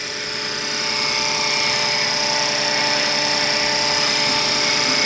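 An RC scale Bell Huey helicopter with a four-bladed rotor head on 500-size mechanics flies nearby, its motor and rotors producing a loud, steady high-pitched whine and buzz that holds constant throughout with no talking.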